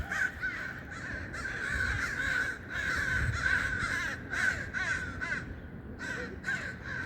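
Crows cawing repeatedly outdoors, a series of harsh, rhythmic caws that come in bursts over a steady background hiss, fairly close and clear with no talking.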